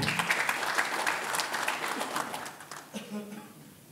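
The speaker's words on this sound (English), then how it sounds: "tepuk tangan sekali lagi" Audience applause at a Proklamasi Democracy Forum gathering: a dense, steady wash of many hands clapping that gradually thins and fades toward the end, with crowd voices mixed in.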